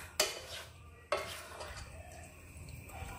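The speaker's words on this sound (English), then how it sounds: "Give it a good mix." Rice with lime juice and a slit green chili being stirred in a pot of boiling water for Andhra chicken biryani, two sharp scraping clinks of a utensil against the pot followed by soft bubbling, fairly quiet.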